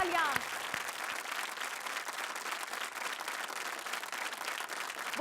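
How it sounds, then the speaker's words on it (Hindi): Studio audience applause on a Hindi sports quiz show, a steady dense wash of clapping that holds at moderate level throughout after a brief trace of voice at the start. "जोरदार तालियां।"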